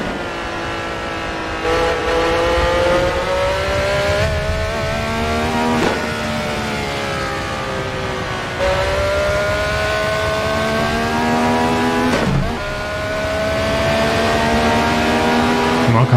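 A race car engine revs and holds high in Assetto Corsa, its pitch climbing through gears in a steady loud drone with brief dips at each shift and occasional tire squeal.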